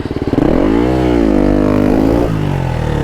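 A 300cc two-stroke motorbike engine revs hard and climbs in pitch as it accelerates, loud and close, holding a steady high drone for a few seconds before easing slightly.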